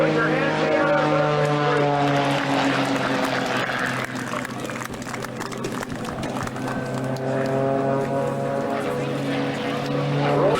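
Propeller aerobatic airplane performing a low snap roll at an airshow, its engine droning steadily and loudly throughout with shifting pitch as it passes, an announcer talking over it.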